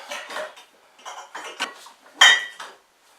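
A small bowl is handled in a home kitchen while making pumpkin loaves, several close clinks and knocks of dishware in a short irregular run, with one sharper ringing clatter near the end.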